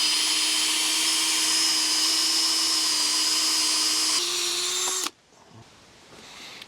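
A power drill fitted with a large bit drives a screw for a gate hinge, a loud, steady high whine that shifts pitch briefly near the end and then cuts off abruptly, leaving faint handling noise.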